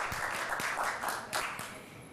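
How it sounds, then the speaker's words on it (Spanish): Scattered applause from a small audience after a talk on violence against women and girls, with individual claps clearly separable in an uneven rhythm, thinning out over about two seconds. "le damos un gran aplauso por su excelente presentación"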